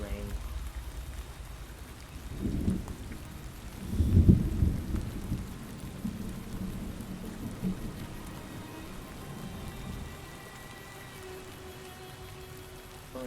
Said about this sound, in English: God, I've always hated the rain.